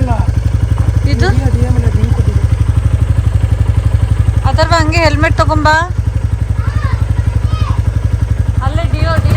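A Honda Dio scooter engine idles steadily close by, a continuous low drone that runs the whole time under people talking, with a brief dip near the middle.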